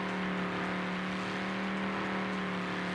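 A simulated American V8 car engine in BeamNG.drive holds a steady high rev near 6,500 RPM, a loud, close, continuous roar with a strong low hum and no talk over it.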